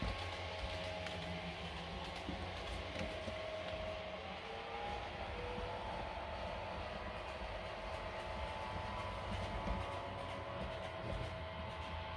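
A model train rumbles steadily uphill along its track on a large layout at a train show, a continuous rolling hum with faint clicks and a thin whine.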